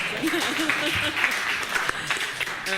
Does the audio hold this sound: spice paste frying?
no